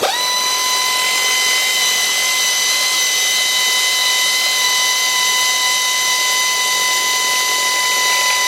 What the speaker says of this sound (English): Use a 3/8 drive ratchet, air ratchet, 13mm deep